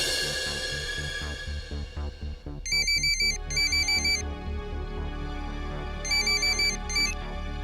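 A telephone rings in a domestic scene from a Marathi family drama, with two pairs of rapid electronic trilling bursts over a low steady background bed.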